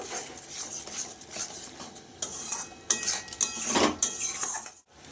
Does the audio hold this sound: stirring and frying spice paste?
yes